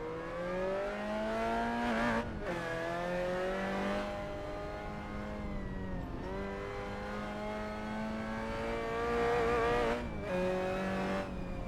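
Jim Clark's 1966 Lotus Cortina race car driving at the 1960s El Pinar circuit, its engine revving up and down through gear changes with rising and falling pitch, a brief lift-off between pulls, close and steady with no talk.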